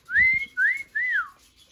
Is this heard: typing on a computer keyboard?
no